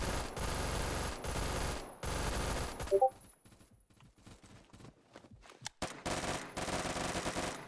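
Automatic gunfire from the AA-94 in the video game Phantom Forces, fast sustained bursts at a high fire rate broken by pauses, with sharper isolated shots and clicks in the quieter middle stretch.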